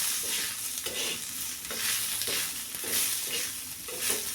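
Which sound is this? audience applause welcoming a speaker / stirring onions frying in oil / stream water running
stirring onions frying in oil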